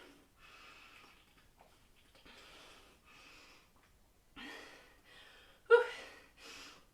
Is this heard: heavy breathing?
yes